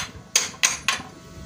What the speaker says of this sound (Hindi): अब हथौड़े की मदद से आहिस्ता आहिस्ता हम इसको